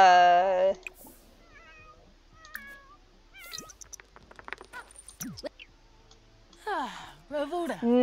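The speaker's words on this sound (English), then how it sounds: "Oh my gosh, what a cat." A cat in The Sims 4 meows several times, with a loud, drawn-out cry at the start and more short meows and chirps later, amid small ticking game sounds and gaps of near silence.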